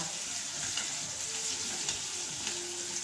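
Onion frying in oil with mustard seeds, cumin and asafoetida for an okra dish, an even, continuous sizzle heard up close with faint stirring, and no talking.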